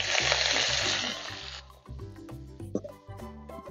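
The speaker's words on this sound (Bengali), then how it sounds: "আর এই তেলের মধ্যে চিকেনটাকে একটু ভাজা ভাজা করে নেব" Minced chicken hits hot oil in a pan, a loud bright hiss and crackle that fills the first second and a half, then settles into softer sizzling with clinks of a utensil and occasional clunks.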